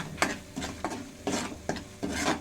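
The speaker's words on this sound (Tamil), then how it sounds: "நல்லா உங்களுக்கு கைவிடாமல் வதக்குங்க" Spice paste sautéed in oil for an anchovy fish curry, stirred without pause: rhythmic bursts of sizzling scrapes, close and regular, about five strokes in quick succession.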